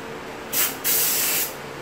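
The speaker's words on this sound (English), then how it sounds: "So, pwede ko rin itong isprayan ng contact cleaner." Contact cleaner sprayed from an aerosol can onto a computer motherboard: a short hiss, a brief gap, then a longer steady burst of spray, close and loud with no talking.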